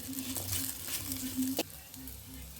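Okra frying in a pan with a continuous soft sizzle, broken by a few light stirring scrapes and one brief knock; no speech.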